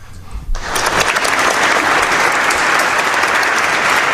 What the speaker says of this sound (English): So, of course, we'll give him a hand claps.